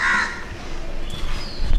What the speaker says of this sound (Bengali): একটা কাক ওখানে বসে বসে নিজের মনে ডাকছে